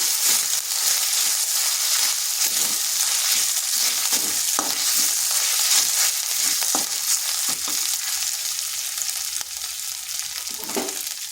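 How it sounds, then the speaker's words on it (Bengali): Ginger and green chili paste sizzling steadily in hot oil in a pan, with a spoon scraping and stirring at irregular intervals. "এরপর এখানে দিয়ে দিচ্ছি আদা আর কাঁচা লঙ্কা বাটা একটু ভেজে নিচ্ছি"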